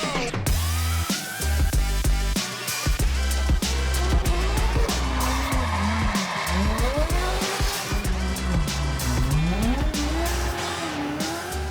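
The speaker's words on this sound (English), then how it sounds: "that cold start is fire" A modified car engine at the SEMA 2024 show cold-starts with a high-pitched exhaust. It is loud and close, its note sweeping up and down with repeated revs and barely any talk.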